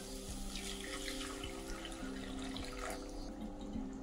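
Hot water poured into a pan of cooking janhi aloo posto, a traditional Odia ridge gourd and potato dish, giving a steady, close, splashing pour that runs for about four seconds with no talking.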